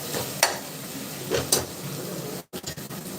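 Onions frying in a pan for mutton curry, a steady sizzle broken by a few stirring scrapes and a brief pause, heard close with no talking.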